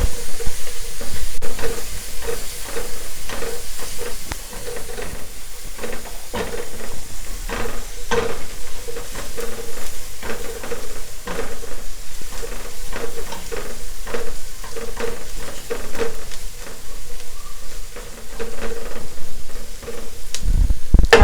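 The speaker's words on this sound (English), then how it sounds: "All of them, I'm going to toast them together prior to adding my beef." Ginger powder and garam masala toasting in a pan before beef is added, sizzling softly with frequent scraping and stirring clicks in a steady, close-up kitchen sound that continues throughout.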